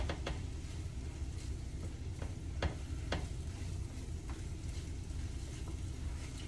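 Mushrooms cooking in butter and oil with garlic and onion for a beef stroganoff, a faint steady sizzle broken by scattered light stirring clicks and scrapes, with no voices.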